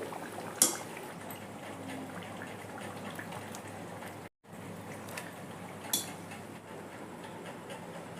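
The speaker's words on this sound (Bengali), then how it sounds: "দেখেন এই কয়টাও ভাজা হয়ে গেছে গোল্ডেন ব্রাউন করে এখন তুলে নেব" Golden-brown onion kachoris sizzle steadily in hot frying oil as they are lifted out, a dense crackle with a couple of sharper clinks and a brief drop to silence midway.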